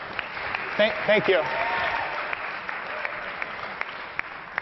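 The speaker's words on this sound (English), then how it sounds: "So a round of applause, please, for Sonar." Audience applause after a startup pitch at a competition event, a steady wash of clapping that runs throughout, with a brief spoken thanks over it near the start.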